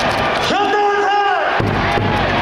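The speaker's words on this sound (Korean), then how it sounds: "응원의 박수와 함께!" A large crowd cheers steadily at a volleyball match featuring Hyundai E&C, with a sustained whooping horn-like tone rising over the dense roar for about a second before the crowd noise carries on.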